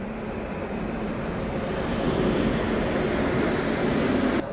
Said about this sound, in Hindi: वो मालगाड़ी स्किप कर रही है